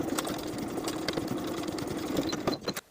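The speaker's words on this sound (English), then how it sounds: "I'm going to edge stitch along that bottom inner fold from one side to the other." A sewing machine runs steadily while edge stitching along the inner fold of a jeans back pocket, a fast even mechanical whir with rhythmic needle ticks that stops abruptly near the end.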